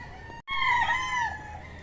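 A rooster crows loudly nearby, one long drawn-out call with a wavering tone, over a soft background of chicken noise in a backyard of fighting roosters.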